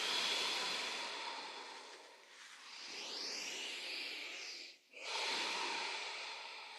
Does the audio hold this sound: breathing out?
yes